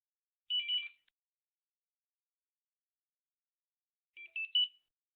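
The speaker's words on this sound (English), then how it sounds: "Those three beeps, again, tell you that the scanner is back online" Two short, thin electronic beep bursts from a barcode scanner, each a quick chirping cluster, separated by a few seconds of silence.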